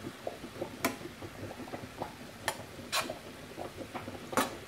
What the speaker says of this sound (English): now I am going to go ahead and add in the sausages and mix that up real good